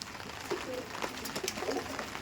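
Pakistani Chotiyal breed pigeons coo softly among rustling and background noise, a few low calls scattered across a busy, fairly faint scene.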